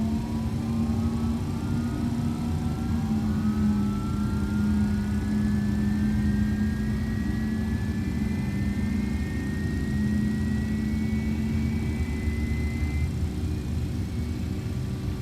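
An MD-11's number 2 jet engine spooling up in X-Plane 12, a rising turbine whine climbing steadily over a continuous low engine drone, sustained and fairly loud with no talk.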